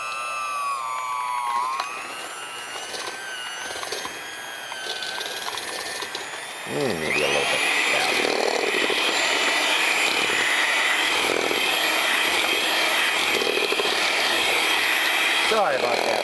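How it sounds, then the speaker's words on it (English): Small electric blender whirring steadily as it mixes cookie cream in a kitchen, growing louder and higher partway through as the speed goes up, with a person speaking briefly over the start. "I got my trusty little blender, or you could use your spatula."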